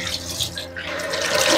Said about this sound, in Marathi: तर मी आता तिचं बॉटल धुवून घेते, वॉश करून घेते